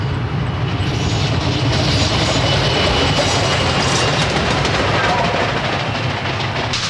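Double-headed Erie Railroad steam locomotives pass at Ferndale, a loud, continuous roar with rhythmic wheel clatter over rails, under narration.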